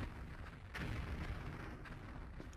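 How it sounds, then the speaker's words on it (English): Explosions go off in the PS1 game Tomb Raider: Chronicles as low, rumbling booms, with one stronger blast standing out among softer bursts, all fairly quiet. "What is with the explosions going on here, Von Croy?"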